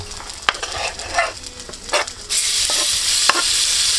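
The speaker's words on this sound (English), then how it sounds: "So we're gonna go ahead and throw those in this skillet here." Onions and vegetables saute in a preheated skillet while camp cooking, making a steady close sizzle that swells louder partway through, with occasional stirring clicks and scrapes.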